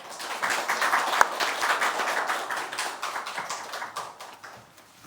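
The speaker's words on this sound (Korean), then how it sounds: "우리 목사님 나오실 때 우리 박수로 환영하겠습니다." A church congregation claps to welcome the pastor to the pulpit, with many hands close by in a lively patter that gradually thins out and fades.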